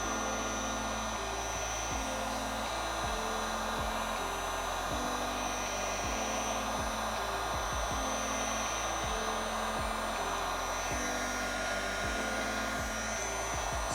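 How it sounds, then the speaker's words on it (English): A heat gun blows steadily and loudly on PPF film being applied to a car fender, a continuous whooshing roar with a pulsing low hum that holds unbroken throughout, with no talk. "What we're gonna do is just take our heat gun."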